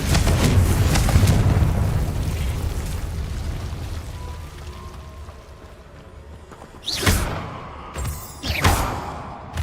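A Confringo explosion spell from the video game Hogwarts Legacy: a loud, booming blast rolls and fades over several seconds, then sharper burst effects crackle near the end, with no talking.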